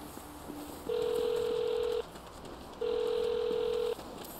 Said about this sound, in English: Let's call the number on all those billboards and find out.